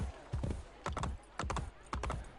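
Horse hooves clopping on the ground in Assassin's Creed Brotherhood, a quiet, steady run of paired hoof strikes at an even rhythm, about five beats over two and a half seconds.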